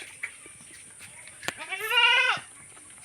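A well-bred goat bleats once loudly and close by on a rural homestead, a wavering cry of about a second, preceded by a few faint knocks and shuffles.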